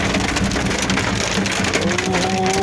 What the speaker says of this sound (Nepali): असिना र पानी नन स्टप